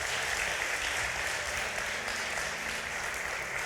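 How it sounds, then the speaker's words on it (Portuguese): A church congregation applauds during a sermon, with steady, dense, continuous clapping that fills the space evenly from start to finish and carries no talk over it. "pode aplaudir a Jesus, pode aplaudir a Jesus"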